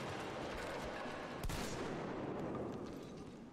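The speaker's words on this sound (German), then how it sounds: "Okay, ein Schuss hat gereicht." A single gunshot in the video game Metro Exodus, one sharp crack midway through against a noisy, rumbling game background.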